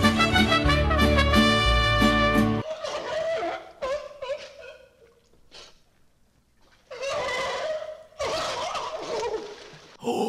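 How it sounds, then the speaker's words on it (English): Loud turkey gobbles come in several bursts, rattling and warbling, after an opening stretch of unrelated music, with short quiet gaps between the calls. "Oh, it's a turkey."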